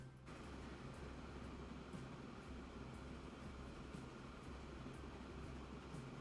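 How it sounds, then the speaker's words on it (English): A train running in the Transport Fever 2 video game, a steady quiet rumbling drone with faint, evenly spaced clicks of wheels over rail joints throughout. "Let's take a trip on this train."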